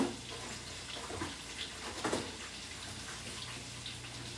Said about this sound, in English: Just made some soapy water over here.